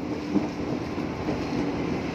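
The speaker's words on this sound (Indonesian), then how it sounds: "Nah ini ada Tokyo Metro 6000. Oh dia udah berangkat ternyata, apa baru masuk ya?" A Tokyo Metro 6000 series train pulls into Tanah Abang station with a steady, moderate rail rumble and no voices.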